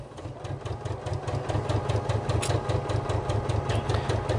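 A sewing machine stitches down the side seam of a fabric Sew Together Bag, its motor humming steadily with a fast regular needle chatter, close and continuous, with no voice over it.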